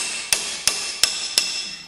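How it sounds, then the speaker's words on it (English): Four sharp metallic hammer strikes ring out at an even pace while a cylinder on a Bobcat T300 is being repaired, each strike followed by a brief bright ring. "Smack with a hammer."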